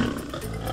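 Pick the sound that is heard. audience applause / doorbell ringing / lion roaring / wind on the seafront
lion roaring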